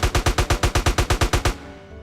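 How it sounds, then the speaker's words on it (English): A rapid, evenly spaced burst of about a dozen loud automatic gunshots from a weapon in the True RP video game, then the firing stops abruptly and a short ringing tail follows. "And we crouch and shoot more."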